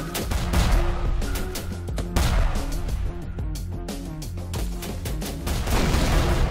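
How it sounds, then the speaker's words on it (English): Dense gunfire in the war strategy game Syrian Warfare: Return to Palmyra, rapid overlapping shots and bursts with booming impacts, loud and unbroken throughout, no speech over it. "Come on, lads. Let's get shooting."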